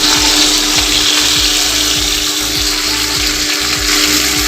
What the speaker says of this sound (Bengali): মাছগুলো ততক্ষণ ভাজা হোক, ফিরে আসছি।